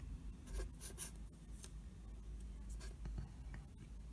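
Marker or chalk strokes scratch across a classroom board as an equation is written during a physics lesson on friction, giving a run of short, close scraping bursts with brief pauses between them and no talking.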